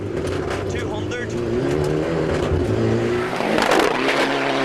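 Rally car with no rear wing, driven by Fabian McShane, accelerating hard past with a loud rising engine roar and a brief squeal, under a commentator's voice.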